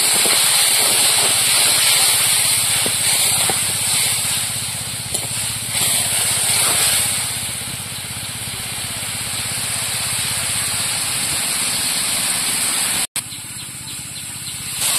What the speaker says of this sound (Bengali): এবার একটু জল দিয়ে দেবো, দিয়ে মশলাটা কষিয়ে নেবো।